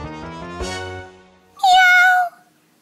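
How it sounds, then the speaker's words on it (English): A cat meows several times, first a series of short repeated mews, then one long, loud, drawn-out meow after a brief pause, close and clear with no talking. "A cat? That's right, a cat."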